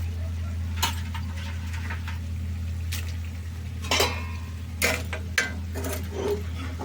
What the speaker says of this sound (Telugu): ఒకసారి తిప్పుకున్నాం మొత్తం కలుపుకోవాలి నీట్గా కలిసేటట్టు